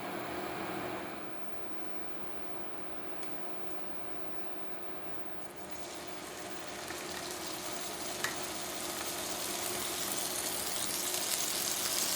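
Extra virgin olive oil sizzling and crackling in a hot pan, a steady close hiss with no talk, slightly brighter and louder toward the end.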